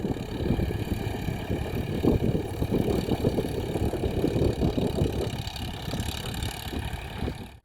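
A tractor engine runs steadily while ploughing a stony, rain-wet field, its mid-pitched chugging rumble close and continuous with slight fluctuations, no speech over it.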